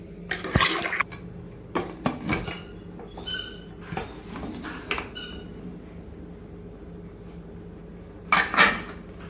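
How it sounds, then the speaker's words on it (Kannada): A pressure cooker lid being closed while mutton biryani cooks, giving a scattered series of close metallic clanks and knocks with quiet pauses between them and one louder clatter near the end. "ಆಮೇಲೆ ಕುಕ್ಕರ್ ಮುಚ್ಚ ಮುಚ್ಚುತ್ತೀನಿ"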